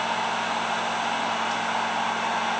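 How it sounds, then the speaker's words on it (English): A heat gun blows with a steady, even roar, close and continuous, shrinking heat shrink tubing onto the eye of a fishing jig hook. "heat it up for a few seconds so that it shrinks on the end of the eye"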